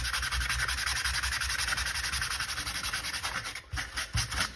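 Sandpaper scuffing a soft costume part to weather it: steady, close, rapid back-and-forth rasping strokes that carry on continuously, with a brief dip near the end and no talking.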